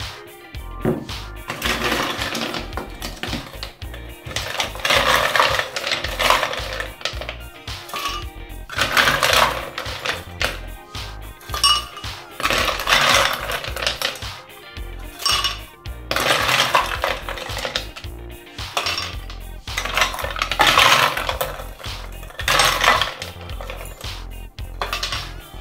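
Hard ice cubes clatter and rattle into a blender in repeated noisy bursts with short gaps between them, close and loud.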